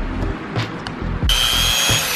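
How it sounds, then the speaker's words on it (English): A power drill bores into a sculpture armature, first in short whirring bursts, then a sustained high-pitched drilling whine close by. "Drilling the armature."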